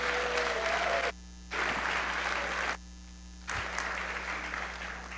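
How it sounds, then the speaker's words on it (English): A large crowd at a school district state-of-the-district address applauds loudly in dense bursts, cut by abrupt silent gaps over a steady electrical hum. "Let's give another big round of applause."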